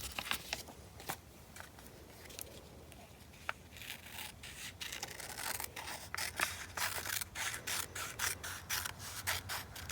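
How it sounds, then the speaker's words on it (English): Scissors cut an irregular shape out of paper, a close, quiet series of crisp snips and rustles in uneven rhythm, denser in the second half. "I'm just going to cut an irregular shape out of these."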